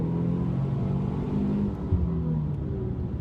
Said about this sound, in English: let's give it a little gas and see how she goes